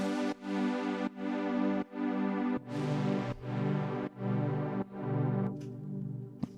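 A sustained synth chord uses sidechain compression, so it drops sharply on each kick hit and swells back up between beats. The pumping rhythm repeats steadily, loud and close, with no voices.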